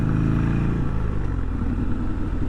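A Harley-Davidson XR motorcycle being ridden, its engine rumbling low and steady up close, with the note easing slightly as the bike slows down.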